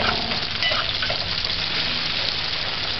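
Onions sautéing with sausage in a pan give a steady, close frying sizzle with faint stirring scrapes, continuous and even with no talking.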